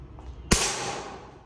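A single sharp gunshot cracks at a shooting range, a loud close report with a quick attack and a ringing decay that fades over about a second.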